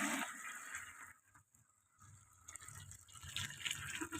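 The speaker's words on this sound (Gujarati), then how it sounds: "આપણે ડોલ લઈ લીધી છે તો તેમાં આપણે છે ને ગરમ પાણી નાખી દઈએ" Hot water is poured from pots into a bucket at home for dyeing clothes, giving a faint splashing, gurgling flow that pauses briefly midway and then resumes.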